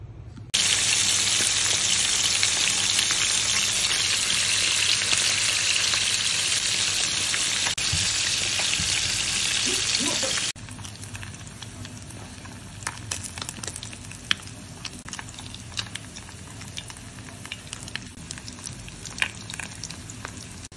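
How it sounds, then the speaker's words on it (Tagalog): Freshly caught fish from shore jigging frying in hot oil, a loud, dense, steady sizzle for about ten seconds, then dropping to a quieter crackle with scattered pops and light clinks. "So, prito siya ngayon."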